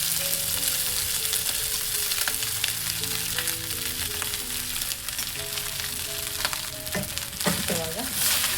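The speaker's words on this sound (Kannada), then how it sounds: "ಇವಾಗ ನಾವು ಕಲಸಿಟ್ಕೊಂಡಿರೋ ಅನ್ನನ ಹಾಕೋಣ." Cooked rice mixed with chana dal tumbles into a hot pan and fries with steady, loud sizzling, punctuated near the end by a few sharp spatula scrapes and clanks as the mix is stirred.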